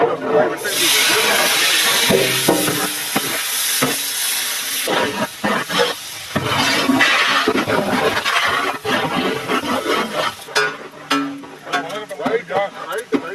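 Steady hissing sizzle of chopped onions frying in hot pure cow ghee, loud and close, with voices talking over it.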